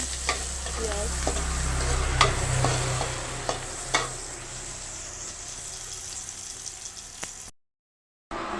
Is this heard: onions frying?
yes